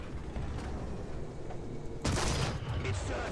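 A single heavy tank cannon shot in the War Thunder ground battle, fired from a Hetzer tank destroyer, bursts out loud and sharp partway through, over steady engine and battle rumble, with a lingering roar afterward.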